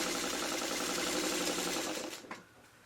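A sewing machine stitches a quilt block, its needle running at a fast, steady hum close up for about two seconds before it slows and stops, leaving near silence.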